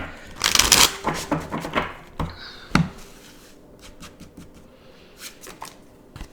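A deck of oracle cards being shuffled close up: quick riffling bursts and flicks at the start, then scattered lighter card taps and slides, no talking.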